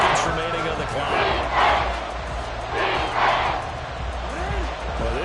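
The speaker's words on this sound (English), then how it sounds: "this crowd is making an impact right now" Stadium crowd at a Chiefs football game, a dense sustained roar that swells in waves, with a play-by-play commentator talking over it.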